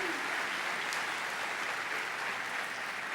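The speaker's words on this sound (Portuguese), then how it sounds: "Give them a hand." An audience at a church gathering gives a steady, dense round of clapping that carries on evenly for several seconds, heard from some distance.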